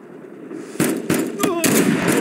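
Gunfire in the video game Mud and Blood, with several sharp shots and bursts landing over a busy battlefield bed. Rapid, loud reports, with a brief whistling tone in the middle and faint voices mixed in.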